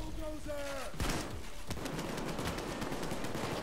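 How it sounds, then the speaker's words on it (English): Rapid gunfire in Payday 2 as a full magazine is emptied into a bulldozer enemy, a dense stream of shots under steady game noise. "Unloading my entire clip into him."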